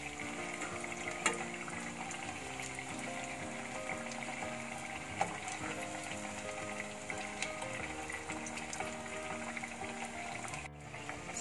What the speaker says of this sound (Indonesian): Goreng dengan api perlahan.